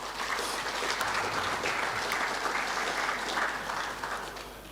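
An audience at a rugby union awards evening claps for the Deputy President of SA Rugby, a steady, moderately loud round of applause that fades slightly at the end.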